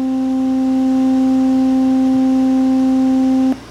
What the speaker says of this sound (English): Now that was a pure sinusoid having a frequency of 261 Hz, which is the same as the basic fundamental on C4.